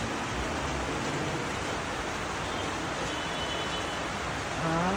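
A dense, steady hiss of heavy rain pours down without a break, loud and close, with no talking over it.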